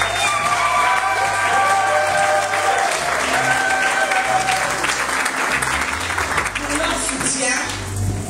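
A church congregation claps continuously in dense, loud applause throughout, with crowd murmurs and a voice or two faintly woven into the sound.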